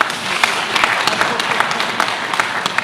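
An audience at a talk-concert on research and entrepreneurship applauds, a full, steady round of many overlapping claps with sharper individual hits standing out, heard alone.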